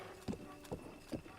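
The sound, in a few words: giant horse walking in the video game Zelda: Breath of the Wild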